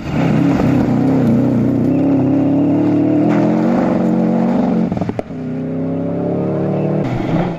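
A Subaru Impreza rally car in a 2013 Gürsu hill climb race roars loudly and steadily near the listener, its engine note climbing with each gear and then dropping briefly at a gear change before rising again.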